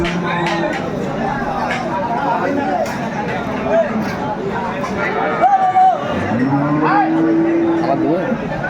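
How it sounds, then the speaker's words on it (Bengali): Cows and calves mooing at a busy village cattle market in Aftabganj, Dinajpur, several low drawn-out calls rising over steady crowd chatter and bargaining voices nearby. "চমৎকার গাভী এবং বাছুর আমরা দেখছিলাম"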